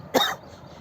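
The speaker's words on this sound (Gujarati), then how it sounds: "ઉધરસ થઈ ગઈ." A single sharp cough, close and fairly loud, bursting out briefly and fading into quiet room noise.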